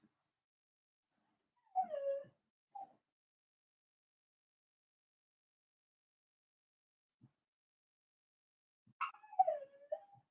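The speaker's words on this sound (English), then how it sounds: "I do apologise for the whiny dog." A dog whines and whimpers in two short bursts of high, wavering cries, separated by a long quiet stretch, heard close and fairly soft in an indoor morning martial arts stretching session.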